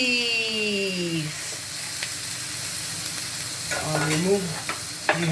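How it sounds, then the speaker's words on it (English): Chopped onions sizzle steadily in a hot pan for Japanese fried rice, with scraping stir strokes and clinks of the utensil near the end, alone without talk. "keep stirring it because onion can get burnt really easily"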